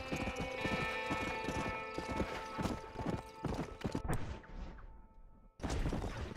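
Game horse from Red Dead Redemption galloping up fast, loud rhythmic hoofbeats with a whinny, then the hooves stop and a brief lull before the sound resumes.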